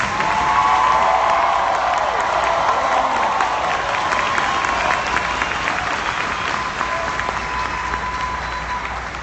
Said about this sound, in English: Come on, clap, Dallas.